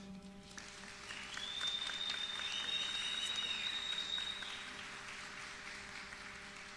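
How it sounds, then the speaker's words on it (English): Soft, distant applause from the audience at a youth-in-construction summit in Johannesburg, rising and holding for a few seconds over a hum and a thin tone. "So may I request that we give them a round of applause."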